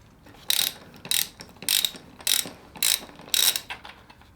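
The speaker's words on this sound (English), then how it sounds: "what we're going to do is remove the yoke nut" A hand ratchet works loose the 32mm steering yoke nut on a Yamaha FZ1, six evenly spaced bursts of rapid clicking, close and crisp, with brief pauses between strokes and no speech.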